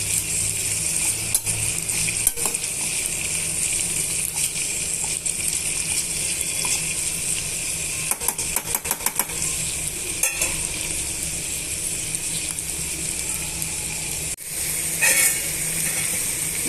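Chopped onion and green chilli pieces fry in a pan with a loud, continuous sizzle, broken by scraping stirs and clustered clicks of a spoon against the pan.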